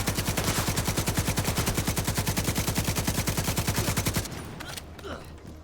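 Rapid automatic gunfire in a shooting video game, a dense loud stream of evenly spaced shots for about four seconds, then a few scattered fainter bursts and impacts, with no talk.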